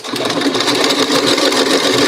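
A sewing machine runs steadily and loudly for about two seconds, its fast mechanical stitching hum continuous from start to finish, stitching one side of a fabric mask with no talk over it.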